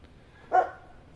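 One short, close dog bark pops out over quiet outdoor background on a warm day.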